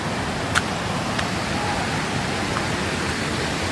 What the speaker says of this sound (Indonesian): aku seneng banget kalau udah denger suara gemericik kayak gini